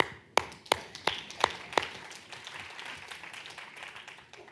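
In a reverberant lecture hall, an audience breaks into applause: a handful of sharp, spaced claps ring out, then thin into a softer, fading patter.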